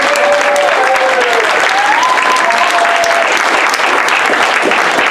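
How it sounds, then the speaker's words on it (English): An audience claps steadily at an improv comedy show, with loud, dense applause filling the room from start to finish and a few voices rising over it. "give them all a round of applause"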